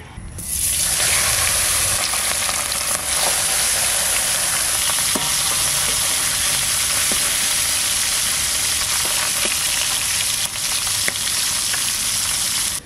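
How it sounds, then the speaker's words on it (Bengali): Pieces of Damodar river fish fry in mustard oil with a loud, continuous close-up sizzle that holds steady throughout, broken only by faint utensil clicks. "মাছগুলো ভেজে নেব। সরষের তেল দিচ্ছি।"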